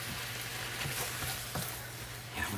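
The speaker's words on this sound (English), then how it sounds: "Let me stir our meat." Meat fries in a pan with a steady crackling sizzle while being stirred, soft scraping strokes breaking through the continuous hiss, close and moderately quiet.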